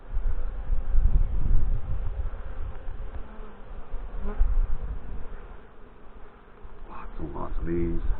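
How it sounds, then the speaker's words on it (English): Honey bees swarm around an open hive during an inspection, producing a dense, continuous buzz close to the listener, with brief soft voices and handling noises near the end. "Lots and lots of bees."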